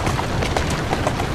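A horse's hooves clip-clop steadily in Assassin's Creed Syndicate, close and fairly loud, under a dense rumble of game noise with no speech.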